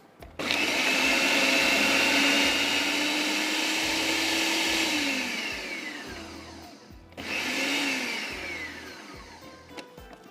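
Electric chopper whirring as it grinds mince for kebabs, a steady loud motor drone for about five seconds that winds down, then a second short burst that also spins down.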